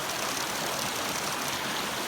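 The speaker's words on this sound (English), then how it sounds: "This is the creek behind my house over there." A flooded creek behind a house in eastern Kentucky after heavy rain, giving a steady, dense broadband rush of flowing water that stays even and constant throughout, with no voices.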